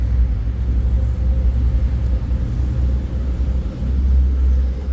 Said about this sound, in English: I'm getting too close to the traffic.